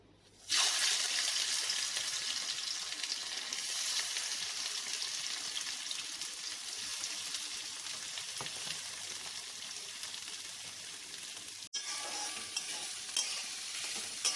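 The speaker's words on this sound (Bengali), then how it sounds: "এই পেঁয়াজটা এবার তেলে ছেড়ে দিচ্ছি" Five large onions go into hot mustard oil, bursting into a loud, close sizzle that holds steady and continuous, with a brief sharp break near the end before the hiss resumes.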